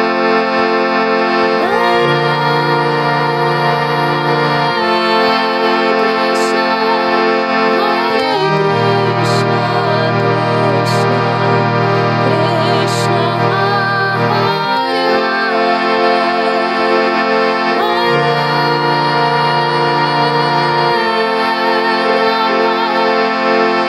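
A harmonium plays a festive Hare Krishna melody over sustained reedy chords, loud and close, with the chord changing in clear sections beneath the tune.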